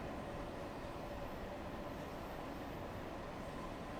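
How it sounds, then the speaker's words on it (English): A diesel freight train rumbles past in the Train Sim World 3 game on the London Bakerloo Line route, heard as a steady, dense, faint low roar with no distinct beats, continuous for the whole stretch. "I hear a diesel."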